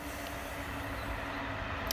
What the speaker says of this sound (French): ça c'est dommage, les bruits de train